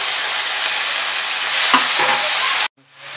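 Onion and tomato stir-fried in a pan at home, a steady close sizzle with a few scraping stirs, cutting off abruptly near the end to near silence.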